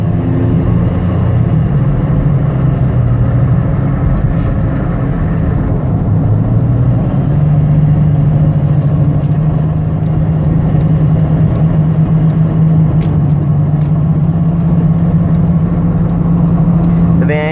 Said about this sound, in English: You can hear the transmission shift.